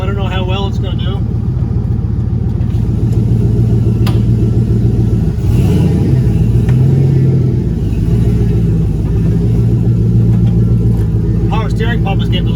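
A car engine idles and runs steadily with a loud power steering pump whining over it; the car has a knocking engine, a leaking exhaust and no boost, and the rumble stays constant and close throughout.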